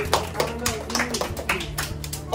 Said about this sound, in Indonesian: Tepuk tangan buat Alika.